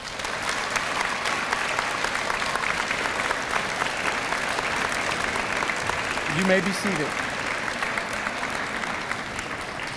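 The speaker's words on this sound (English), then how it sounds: "let's give them one more round of applause" A school audience at a Veterans Day celebration claps steadily for veterans in a sustained, dense round of applause, with a brief spoken line near the end.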